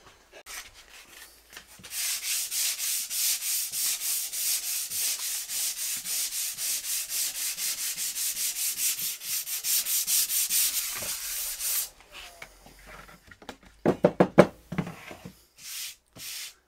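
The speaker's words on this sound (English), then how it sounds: "Now I'm going to give it a quick sand so it's all perfectly smooth." A wooden longboard deck is sanded smooth by hand, with steady back-and-forth rasping strokes running close and continuous for about ten seconds, followed by a few sharper scraping bursts and quiet handling.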